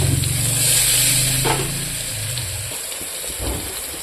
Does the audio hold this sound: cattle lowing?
no